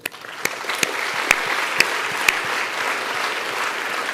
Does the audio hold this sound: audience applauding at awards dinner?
yes